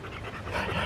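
A dog pants quickly and close by for under a second, breathy and rhythmic, rising slightly in loudness, with no talk over it.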